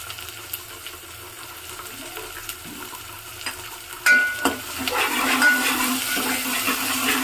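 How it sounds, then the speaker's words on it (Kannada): Chopped onions, green chillies and leafy greens frying in a pan, a quiet low sizzle at first with a few stirring clicks, then a louder, fuller hiss as the food is moved about. "ಈಗ ಚೆನ್ನಾಗಿ ಈರುಳ್ಳಿ ಫ್ರೈ ಆಗಿದೆ"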